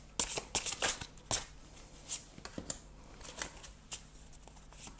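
Osho tarot cards being shuffled by hand, a series of soft crisp riffles and flutters, close and fairly quiet, with no talking.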